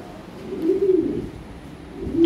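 Pair of Lahori pigeons cooing close by, a low soft throaty coo that swells and falls, then starts again at the end, with no talk over it.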